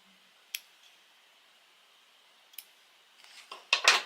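Scissors snip through thread during slow hand stitching of a primitive art piece, two crisp isolated snips followed by a closer, louder cluster of cutting clicks at the end.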